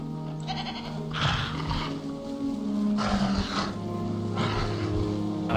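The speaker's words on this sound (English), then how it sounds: "Why is this dinosaur socializing with a goat?" A goat used as live bait beside a dinosaur in Jurassic World Evolution 2 bleats several times in drawn-out cries, fairly loud over a steady game ambience with low rumbling.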